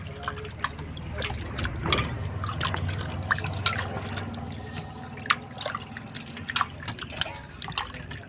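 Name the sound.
mutton being washed in water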